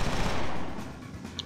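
Gunfire in the video game XIII: a brief, dense burst of rapid shots crackles loudly for about a second, then trails off into a faint tail.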